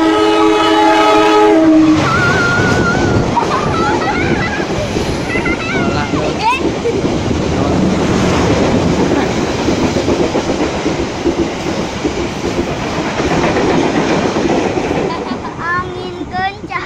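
A train horn blasts, then a train thunders past close by at Kranji Station, Bekasi, with loud rumbling and rhythmic clacking of wheels over the rails, while people talk.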